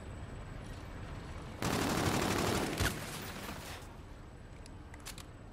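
Automatic weapon fire in the video game Call of Duty: Infinite Warfare, a loud rapid burst of about two seconds over steady game ambience, followed by a few fainter scattered shots.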